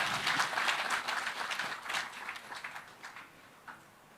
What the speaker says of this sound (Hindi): तो एक बार जोरदार तालियां चौधरी वीरेंद्र सिंह जी के लिए